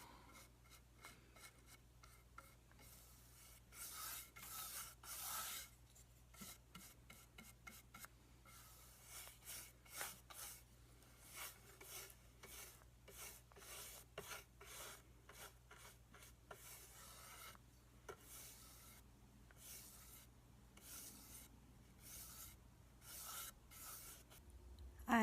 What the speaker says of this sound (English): Moving on to the second coat now, going in the opposite direction.